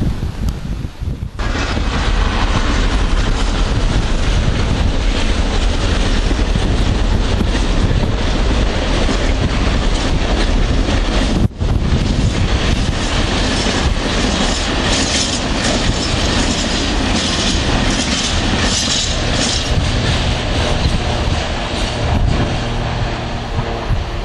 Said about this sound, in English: So there you have it, the first freight of the day